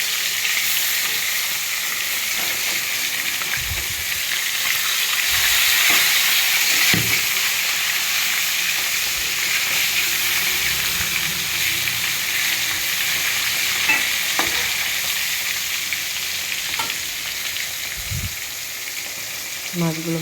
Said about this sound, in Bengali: দেখুন মাছগুলো ভাজা হচ্ছে।